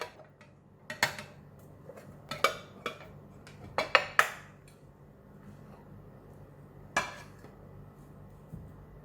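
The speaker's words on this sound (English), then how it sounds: "We want to serve it from the other side of the egg, so we're going to flip it." Minced pork omelet flipped in a pan, heard as a run of sharp metallic clanks and knocks of utensil on pan, several close together then a last one after a pause, near and clear with no talk.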